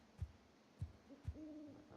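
Owls hoot three times in a steady rhythm in Ark: Survival Evolved on the Olympus map, each a low, short, muffled call above a faint hiss, followed by a thin sustained tone near the end.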